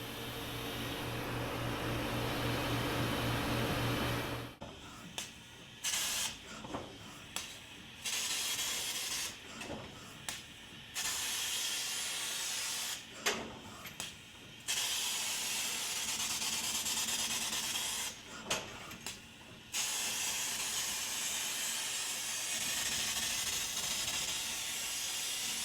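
JMT fiber laser cutting 11 gauge mild steel with oxygen through a 1.0 millimeter nozzle, a loud continuous hissing rush broken by several brief pauses and restarts as the head moves between cuts.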